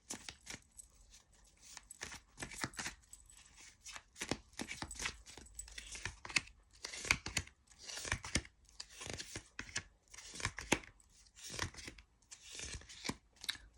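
Tarot cards being shuffled by hand, a soft, irregular run of riffling and flicking bursts that keeps going, quiet and close without speech.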